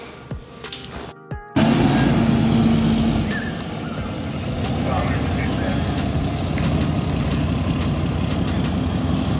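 A truck pulls in to park with a heavy engine rumble and broadband road noise that swells loudly after a short gap and then keeps going. People talk now and then over the engine.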